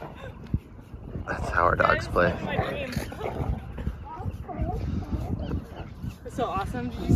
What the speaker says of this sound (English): That's how our dogs play.